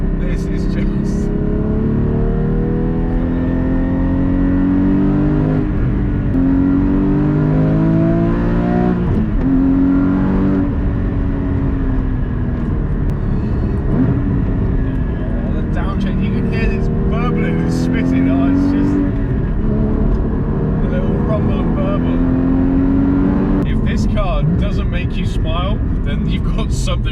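Porsche Cayman GT4 (981) engine revving loudly and continuously, with rising and falling pitch sweeps as it accelerates and shifts, heard from inside the car with someone talking over it throughout.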